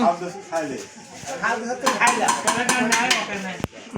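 Plates clink and clatter with sharp metallic knocks during a group picnic, mixed under lively overlapping voices talking close by.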